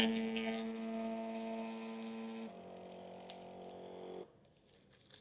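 A Phomemo TP81 thermal tattoo printer runs in a steady mechanical hum that is fairly quiet and close. It changes tone partway through and then stops, and no one talks.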